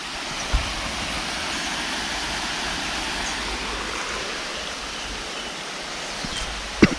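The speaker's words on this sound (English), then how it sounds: "You just come up and over the waterfall." A steady, full rush of falling water fills the clip, loud and close and unbroken, with only a couple of faint knocks.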